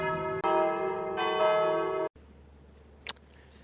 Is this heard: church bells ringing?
yes